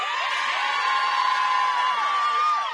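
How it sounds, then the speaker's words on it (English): Sideline supporters at a Midwest Division 1 women's rugby championship match keep up a sustained cheer, with high whoops and shouts blending into a steady, fairly loud roar. "How much does that mean to have this crew on the sideline cheering you guys on?"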